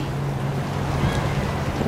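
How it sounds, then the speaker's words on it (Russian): Excursion motorboat with tables and chairs on Lake Tahoe, its engine giving a steady low drone with water and wind noise throughout, close and fairly loud. "Вот такой тут катер."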